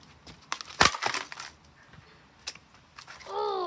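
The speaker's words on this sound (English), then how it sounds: "Let's try and crack the motor casing a bit more." Hard cracking and crunching impacts against the motor casing of a Blaupunkt 9-inch desk fan, a loud burst of sharp hits near the start, then scattered knocks and a rising whine at the end.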